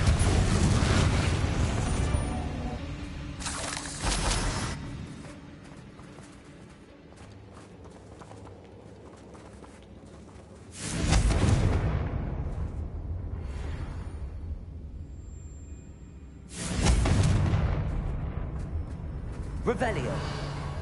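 Fire-spell explosions from Confringo in Hogwarts Legacy during combat, arriving as a few loud bursts separated by quieter stretches of game ambience, with a voice talking throughout.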